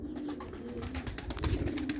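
Pigeons coo softly and steadily nearby, low rolling calls repeating over faint rustling and fluttering.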